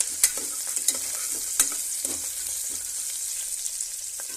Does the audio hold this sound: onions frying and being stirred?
yes